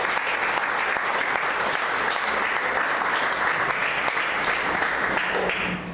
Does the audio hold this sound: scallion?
no